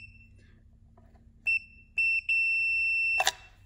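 A multimeter in continuity mode beeps while probing the two gold pins of a Lunacycle X2/Z1 electric bike power switch: a short beep, a brief one, then a long steady tone, ending with a sharp click, close and clear in a quiet room.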